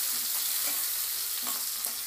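Onion pieces and dried red chillies fry in hot oil, a dense continuous sizzle with soft stirring scrapes, close and steady with no voices.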